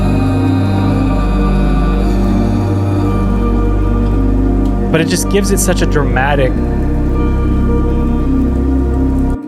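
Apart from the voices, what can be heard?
rain sample used as background texture in music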